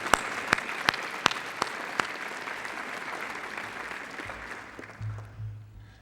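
A college audience applauds at a state-of-the-college address, with a few sharp, loud claps up front settling into a broad wash of clapping that fades out as it ends.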